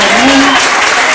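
A church congregation applauds loudly and continuously in a dense wash of clapping, with a voice audible over it.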